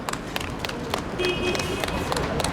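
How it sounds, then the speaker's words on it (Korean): An audience claps at an outdoor press conference in Busan. Sharp individual claps come in a loose, uneven patter with a faint murmur of voices underneath. "박수로 격려해 주시기 바랍니다"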